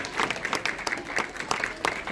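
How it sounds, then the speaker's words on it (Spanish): A church congregation applauds children after their performance, a dense wash of many hands clapping at a steady moderate distance, continuous through the short stretch with no break. "¿Cuántos dejan un aplauso más fuerte a los niños?"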